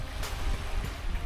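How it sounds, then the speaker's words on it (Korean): East Sea waves wash onto the small beach at Huhuam in Yangyang, Korea, a soft broadband surf rush with gusty wind noise on the microphone, fairly faint and with no voices. "잠시 시원한 파도 소리 들으며 힐링하세요."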